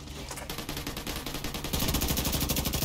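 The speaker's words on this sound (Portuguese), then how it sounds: "Puta torreta automática." Automatic turret in The Division 2 firing rapid, evenly spaced rounds in a continuous burst that grows louder and denser toward the end.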